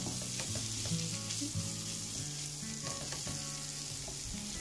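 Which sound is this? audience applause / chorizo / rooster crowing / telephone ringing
chorizo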